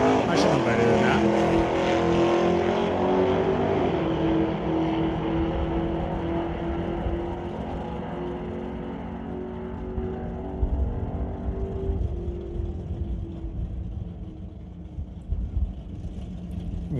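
Drag race cars at an ET Series bracket race launch off the line, one with some wheel spin. A loud engine roar slides down in pitch and fades over several seconds while an announcer talks over it.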